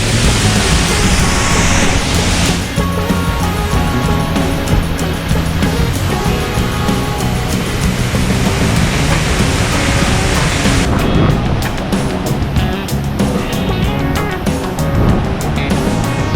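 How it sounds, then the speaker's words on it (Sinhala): Kadiyanlena waterfall in Sri Lanka, its first tier crashing down, gives a loud, steady broadband roar of falling water that runs unbroken and close throughout, with no voices. "මෙතනින් ඇල්ල පළවෙනි තට්ටුව කඩාගෙන හැරෙනවා."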